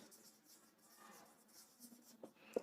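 A marker or chalk scrapes across a classroom board in short strokes, quiet and close, ending with a sharper tap as the writing finishes.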